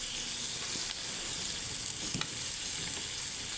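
Chicken with peanuts and mushroom frying in a pan, a steady, moderately quiet sizzle with occasional spatula clicks as it is stirred.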